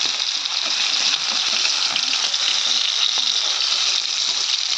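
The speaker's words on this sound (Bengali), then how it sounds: "এই সাইডে আমি তরকারি রান্না করি, মাছগুলো ভেজে নিচ্ছি" Steady, dense sizzling of fish frying in hot oil, continuous and close with a faint crackle throughout and no talking.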